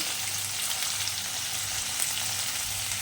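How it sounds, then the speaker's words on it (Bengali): Onions and capsicum fry in hot oil in a pan for paneer bhujiya, giving a steady, dense sizzle that holds evenly throughout with no talking. "তেলের মধ্যে পেঁয়াজগুলো দিচ্ছি পেঁয়াজগুলো হালকা ব্রাউন কালারের ভাজা হয়ে গেলে ক্যাপসিকামগুলো আমি এর মধ্যে দিয়ে দেবো"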